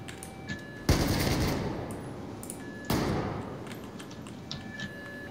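Two heavy gunshot blasts in the video game Battlefield 4, about two seconds apart, each striking sharply and decaying into a long rumbling tail over faint game ambience.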